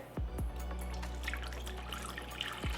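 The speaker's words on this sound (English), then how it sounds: "pour in my water" Room-temperature water pours steadily into a Thermomix TM7 bowl on a scale, a continuous close trickle with a few brief splashes and drips at the start and end, no voices.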